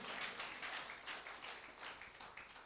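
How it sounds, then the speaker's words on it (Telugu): A church congregation claps loudly in steady rhythmic bursts, many hands together at a fast beat with no voices. "కొట్టండి చప్పట్లు గట్టిగా, ఇంకా గట్టిగా"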